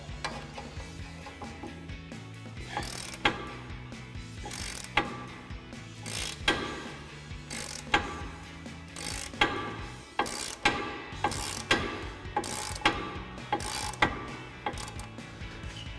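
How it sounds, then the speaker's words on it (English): Hand ratchet with an 18mm socket working loose the caliper bracket bolts on a 2019-2023 Chevrolet Silverado 1500, with repeated sharp clicking bursts and metallic mechanical clatter, close and moderately loud, without talk. "So we'll grab our 18mm socket again on our ratchet and go ahead and pop these off"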